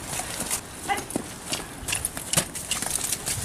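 A horse performs the piaffe in a training session, its hooves striking the ground in quick, uneven rhythmic beats at close range, with soft outdoor background noise.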